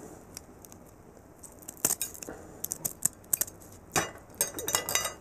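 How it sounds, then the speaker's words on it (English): Kitchen scissors snip through the shell of a cooked yabby, giving a series of sharp crunchy clicks and cracks, sparse at first and then quicker, close and fairly quiet, with no voices. "Now, you gotta cut the shell on the sides like this"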